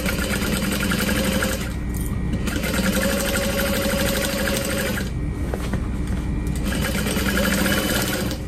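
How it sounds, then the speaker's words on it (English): Close and loud, a sewing machine runs in fast, steady bursts while stitching a duffel bag seam. Brief pauses break the stitching before it starts up again. "Sew that all together"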